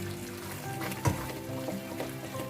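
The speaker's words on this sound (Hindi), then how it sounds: "थोड़ा सा सिम गैस पर ही इसको भूनते रहें।" Gujiya filling roasting in ghee in a pan over a low gas flame gives a steady soft sizzle with faint stirring scrapes, one brief louder clink partway through.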